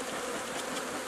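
Honeybees swarm around an opened hive during a new-style hive setup, a steady close buzzing that fills the whole moment without pause.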